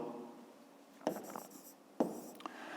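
A pen writes a math formula on paper in short scratching strokes, two brief bursts of quick, close, quiet scribbling separated by pauses.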